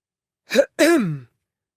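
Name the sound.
man clearing his throat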